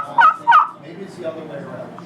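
A handheld turkey call imitates a hen's yelp, sounding two sharp, close yelps in quick succession followed by a softer, trailing tail of sound.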